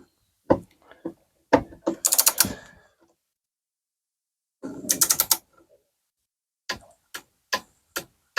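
A torque wrench ratchets and clicks on solar panel switch gear, with sharp separate ticks and short bursts of ratcheting spread through the stretch, close and dry between silent gaps.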